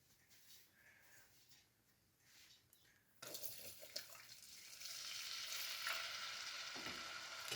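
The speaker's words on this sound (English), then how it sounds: "We're just going to cook that flour in the oil till it starts to bubble." Flour cooks in oil as a roux, bubbling and sizzling softly at first; oat milk is then poured in and a louder, steady hiss and sizzle rises and holds to the end.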